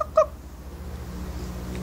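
A voice gives a quick, high clucking call imitating a chicken, once, over a low steady hum.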